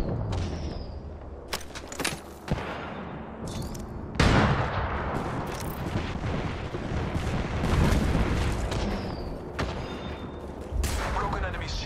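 Bursts of weapon fire in the battle royale video game Apex Legends, sharp shots and booms scattered among game voice callouts, loud and close with a sustained barrage near the middle.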